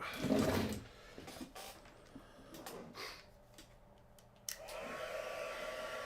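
Heat tool warming and melting embossing powder at a crafting demo, a brief close blowing whoosh at the start, then quieter handling noises and a steadier airy hum returning near the end.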